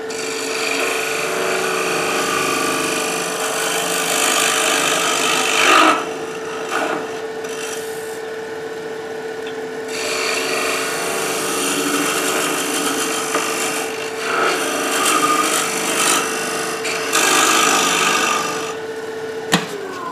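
A bowl gouge cuts an enclosed wooden form spinning on a lathe, giving a steady, close, loud rasping hiss that breaks off briefly several times as the tool lifts, with no talking.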